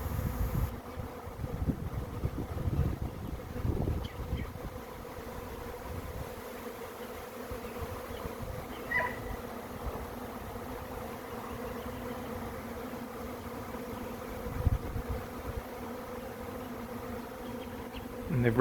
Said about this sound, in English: The air is getting noticeably thicker with bees as time goes on.